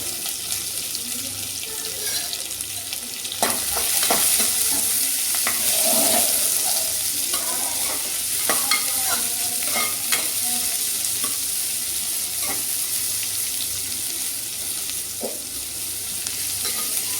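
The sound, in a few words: onions and green chillies frying and being stirred in a pan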